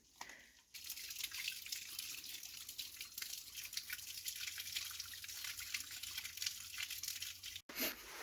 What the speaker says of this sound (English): And here we can hear running water.